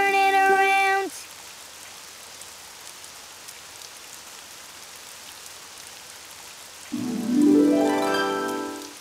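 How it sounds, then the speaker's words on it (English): Rain falls outside in a cartoon, a soft even patter between bursts of musical tones at the start and end. "Oh, it's raining outside."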